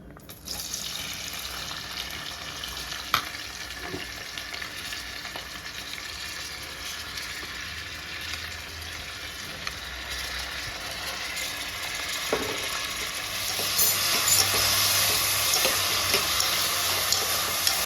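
Onions with cloves and cardamom frying in a pan for hotel-style paneer pulao, a steady close broadband sizzle with occasional stirring knocks, growing louder and fuller near the end.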